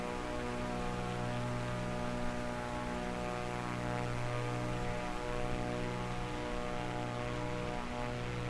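The propeller engine of a Cessna Corvallis TT in Microsoft Flight Simulator 2024 drones in a steady, even cruise hum. The buzzing tone holds throughout with a faint whooshing wash behind it.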